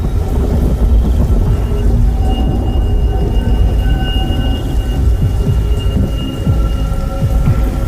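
Heavy rain pours down in a dense, continuous roar, with low rumbles of thunder beneath it, loud and close.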